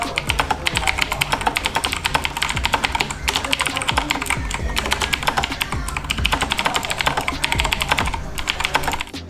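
Fast continuous typing on a Razer BlackWidow X Chroma mechanical gaming keyboard, crisp close clacks in quick rhythmic bursts for several seconds with no talking.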